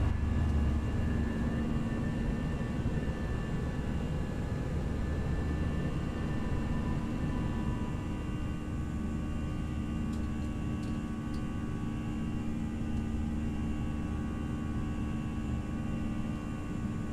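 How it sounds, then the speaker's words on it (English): Airbus A321 with IAE engines climbing after takeoff in the X-Plane 11 simulator, a steady broad jet roar with a low hum throughout and a few faint ticks partway through, no talking. "are at V1, rotate. Positive climb. Wheels are coming up."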